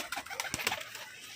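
Malwai pigeons kept in pairs give a brief, soft, close-up coo in a quiet moment, with slight rustling alongside.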